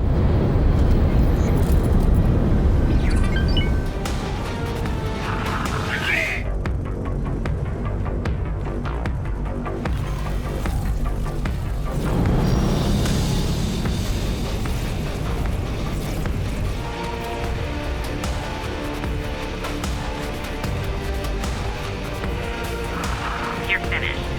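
Space station destroyed in a space strategy game, heard as loud continuous rumbling explosions and booming crashes layered over a throbbing game score, with a brief quieter pause midway before the destruction noise swells again.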